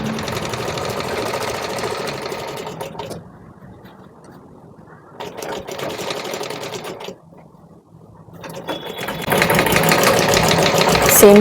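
A sewing machine stitches the hem of a child's umbrella frock in three bursts of fast, buzzing mechanical whirring, separated by brief lulls, with the final run the loudest.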